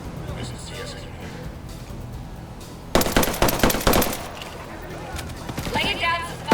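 Automatic rifle bursts rattle loudly through a Ghost Recon Breakpoint firefight, rapid stacked shots in ragged volleys after a quieter stretch, with a voice talking over the gunfire.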